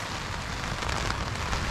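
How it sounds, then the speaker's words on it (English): Rain falls steadily on a tarp shelter, a dense, even hiss heard from inside, with no voices. "As you can see here, completely out of the rain."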